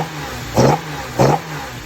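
A BMW E30 with a 3.0-litre engine and a full stainless steel exhaust, blipped twice in short, sharp revs separated by a steady idle, close and fairly loud.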